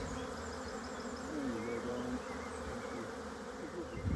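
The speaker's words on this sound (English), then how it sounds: "make sure that this cell builder is absolutely bursting with bees" Honey bees in a crowded queen-rearing cell builder hive make a dense, steady buzz throughout, close and continuous, with individual bees whining past now and then.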